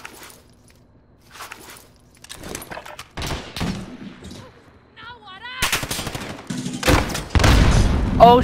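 Call of Duty Modern Warfare firefight with loud sharp bursts of gunfire, scattered single cracks early then dense volleys later, mixed with footsteps and brief voices.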